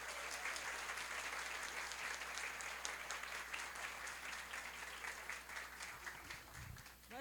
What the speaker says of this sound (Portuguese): gostaria de uma salva de palmas para elas